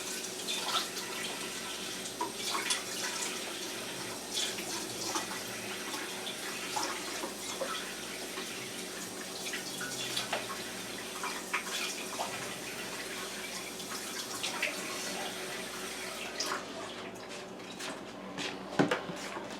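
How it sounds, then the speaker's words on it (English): Water poured into a bowl of pie crust dough for a pear pie, a soft continuous trickle and splash at moderate distance, fairly quiet with faint kitchen clatter near the end. "And to this I'm going to add 8 tablespoons of water."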